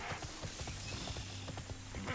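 Rhythmic clip-clop of a horse's hooves trotting in the TERA video game, moderately quiet and steady over faint background ambience.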